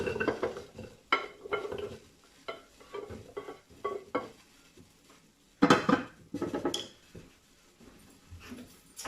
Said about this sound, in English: I'm going to also add in the carrots.